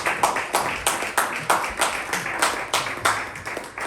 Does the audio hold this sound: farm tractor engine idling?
no